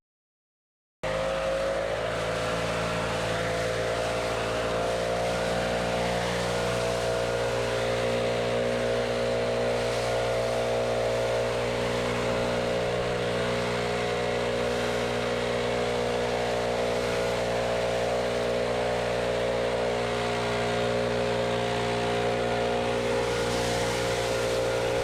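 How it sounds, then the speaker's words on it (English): A STIHL BR700 backpack leaf blower runs continuously while clearing leaves in a backyard, its steady engine drone and airy rush sounding loud and close after a brief silent start, with no talking. "as I'm blowing leaves here, you can see that it's doing a pretty good job of cleaning everything up"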